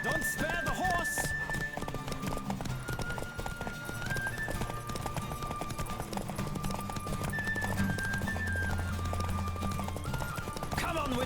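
A horse gallops in a race in the video game The Witcher 3, with steady rhythmic hoofbeats pounding close and loud throughout, mixed with game music and voices.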